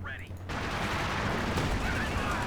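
Artillery from an M7 Priest in a Company of Heroes 2 battle booms out amid a continuous rumble of distant gunfire and explosions, heavy and sustained, with no break after a short quieter opening.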